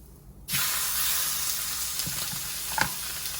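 Chicken pieces laid skin side down in a preheated pan burst into a loud, steady sizzle after a quiet start, with a few soft clinks and pops near the end, no voices.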